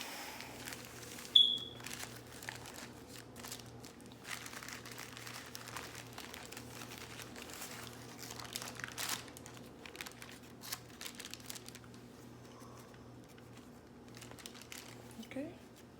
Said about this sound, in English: now that I have my sterile gloves, I remove it from its packaging